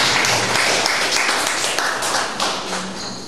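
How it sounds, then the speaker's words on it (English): An audience at an education workshop claps steadily in a dense, sustained round of applause lasting a few seconds, with no talk over it. "Please give her a big round of applause,"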